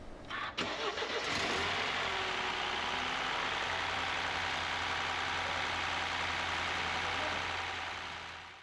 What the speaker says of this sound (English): And we can start the engine.